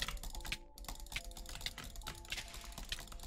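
Rapid butterfly clicking on a computer mouse during a game, a quiet, dense stream of sharp plastic clicks with brief rhythmic surges and a short gap early on.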